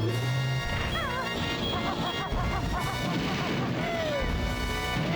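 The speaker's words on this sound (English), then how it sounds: "Double mortars." Double mortars firing in Banjo-Tooie, a string of booming, thudding shots at a steady pace, set among cartoonish game music and chirpy sound effects.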